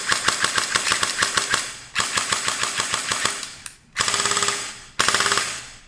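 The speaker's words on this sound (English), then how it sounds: "let's give it a few test shots without the gels" A CYMA JD-002 gel blaster fires full-auto without gels, loud rapid mechanical bursts of about ten cycles each with brief pauses between, close and dry.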